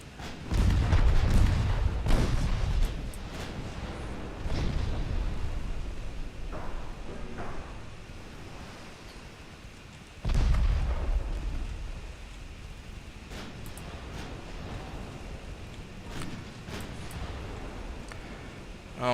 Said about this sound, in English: main guns on you